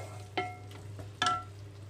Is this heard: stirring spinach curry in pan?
yes